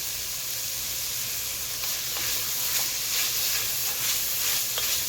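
Celery sizzling as it cooks in a pan, a steady close hiss of frying with faint crackles and occasional stirring ticks, continuous and unbroken with no voices.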